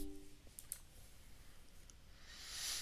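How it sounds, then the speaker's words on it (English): A computer mouse gives a quick pair of faint, close clicks early on, followed by soft scattered ticks over a quiet room hiss. "so let's go ahead and double click that"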